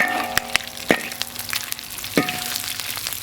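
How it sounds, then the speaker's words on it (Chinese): Ginger and garlic stir-fried in hot oil in a wok with pork fat, a steady close sizzle broken by sharp clacks of the spatula against the metal. "再把这个炒香啊，下姜和蒜"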